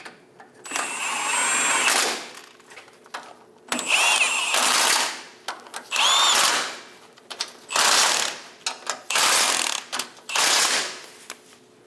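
A ratchet wrench clicks in short bursts while snugging down the three pitman arm bolts on a 2003-2025 Chevrolet Express 2500, with close, bright ratcheting strokes separated by brief pauses.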